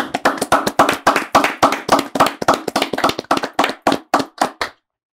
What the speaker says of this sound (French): Applaudissements pour Noah Lounsi.